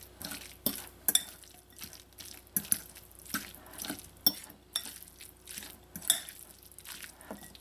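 Sardine choka with sautéed onions and salt is mixed in a bowl, a spoon scraping and tapping against the sides in irregular soft clinks and wet stirs, close and fairly quiet.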